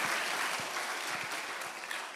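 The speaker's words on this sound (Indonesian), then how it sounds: "Jadi tolong berikan tepuk tangan kepada saya." Applause from an audience at a talk, a steady wash of many hands clapping throughout, moderately loud and even with a few sharper claps standing out.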